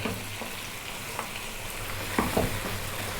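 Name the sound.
lamb frying in a pan over medium heat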